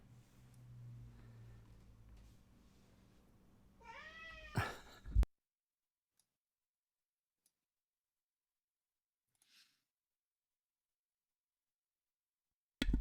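A cat meows several times in quick rising and falling calls, close and fairly loud, over a low background hum, followed by near silence with faint clicks and a brief thump at the end.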